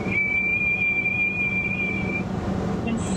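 A person vocally imitates the shrill whistle of storm wind forcing through house walls, holding a steady high whistle for about two seconds over a broad rushing noise.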